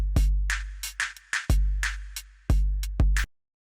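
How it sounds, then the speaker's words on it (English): A punchy drum beat plays alone: deep kick thumps alternating with crisp snare and hi-hat hits in a steady groove, then stops. "So we're going to take a drum beat that sounds like this."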